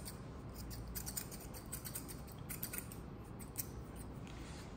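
Thinning scissors snipping through curly, kinky hair during a fade haircut, a quick run of small metallic snips close to the microphone over faint room hiss, no voices.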